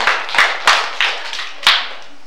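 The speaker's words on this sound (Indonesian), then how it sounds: "beri aplaus kepada kelompok strawberry" A small group gives brief applause for a team called the strawberry group, with a handful of distinct, close claps spread over a couple of seconds.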